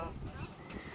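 Spur-winged goose on safari in Botswana, a brief faint nasal honking call lasting about a second, heard at a distance against background noise.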